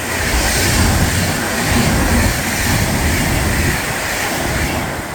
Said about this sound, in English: Meanwhile, through comes the 390.